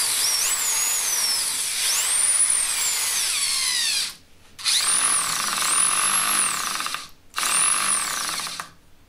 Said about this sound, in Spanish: Ahora vamos a probar con tornillos hexagonales de 8 milímetros.